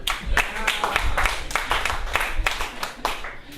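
Audience at a talk bursts into clapping, a dense patter of many hands at moderate distance, continuous for a few seconds with uneven swells and no voices over it.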